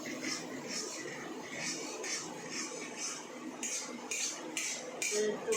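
Metal spoon scraping and clinking against a pan as spice masala with cumin fries for khichuri, a steady rhythm of light taps and scrapes at moderate distance over faint background noise.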